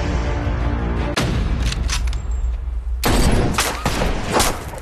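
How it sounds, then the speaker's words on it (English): Gunfire crackles through an action-adventure movie trailer, with dense broadband volleys of shots rolling over a rumbling score. A brief break comes just after the first second, and a louder burst of shots arrives near the end. "Jesus, Jake, somebody is shooting at us!"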